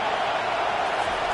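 Football stadium crowd roaring steadily as the home defense stands in the red zone, a dense, continuous wash of cheering with no breaks.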